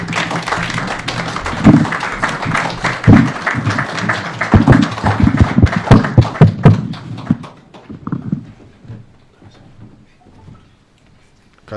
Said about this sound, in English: Let us stand up and give him a round of applause.